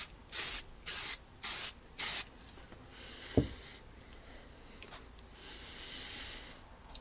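Four short bursts of aerosol spray paint hit an AR rifle during a weathered, distressed finish, evenly spaced and close, followed by quiet room tone with a single soft knock.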